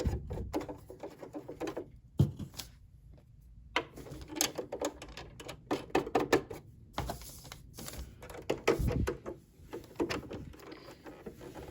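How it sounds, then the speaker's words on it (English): Faint clicks, taps and small metallic rattles of screws being set and tightened by hand on a Brother LX 3817 sewing machine, irregular and close, with a few louder knocks and quiet gaps. "And then let's add our screws."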